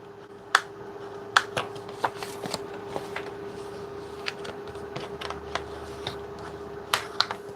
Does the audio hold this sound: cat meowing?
no